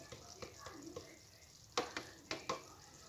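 Capsicum with crushed peanuts being fried and stirred in a pan, giving soft sizzling with a series of quiet scraping stirs and a few sharper spoon knocks near the end.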